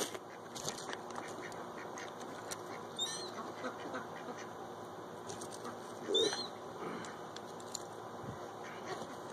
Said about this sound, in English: I'm still feeding the rest of the ducks here behind us.